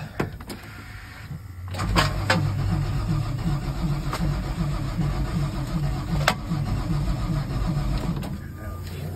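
A car engine that has sat unused for two years cranks on a dose of brake cleaner, with a steady rhythmic starter whir running for several seconds, close up, and a few clicks and clanks around it.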